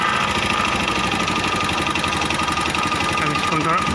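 A TVS Sport motorcycle engine runs steady and close, giving a loud continuous mechanical chug with a faint slight rise in pitch toward the end and no pause.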